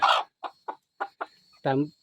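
A young gamefowl chicken clucks in a short series of brief, close calls with gaps between them, ending in a longer, louder squawk.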